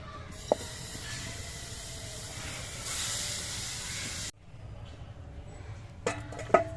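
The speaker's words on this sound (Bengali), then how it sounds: "আবার একটা পিঠে ভাজার জন্য আমি গোলার দিয়ে দিচ্ছি" Pitha batter sizzles in a pan with no fresh oil added, a steady soft hiss that swells briefly before cutting off, followed by quieter frying and a few light clatters.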